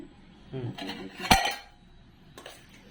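Serving lunch dishes of fried vegetables and fish, metal utensils and pots clink and clatter close by, with one sharp bang in the middle and softer knocks around it.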